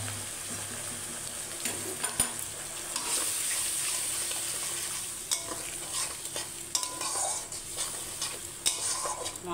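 Spice paste with chilli powder frying with a splash of water in a pan for Kashmiri aloo dum, a soft steady sizzle with irregular scraping stirs and light clinks.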